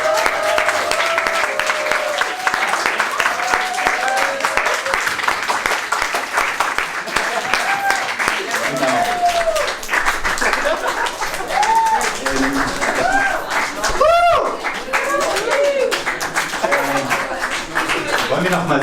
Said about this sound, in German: und noch mal einen Applaus für alle